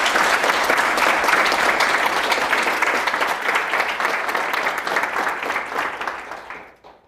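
An audience at a live forum on fighting online misinformation applauds Valeria Kovtun: sustained, even clapping from many hands that holds steady, then thins out and fades away at the end.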